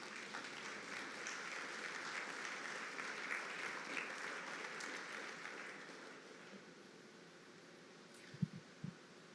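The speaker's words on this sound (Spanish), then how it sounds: "Dale un aplauso a Dios por eso." Congregation at a Christian church service clapping together, a steady wash of applause that carries on for several seconds before thinning out, with a few sharp thumps near the end.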